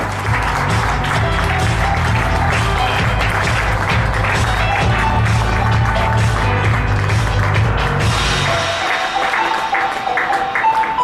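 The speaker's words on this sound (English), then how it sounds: "Come on everybody, keep the applause going" Sustained audience applause at a 2013 app competition award ceremony, a dense, steady wash of many hands clapping for several seconds before thinning out near the end.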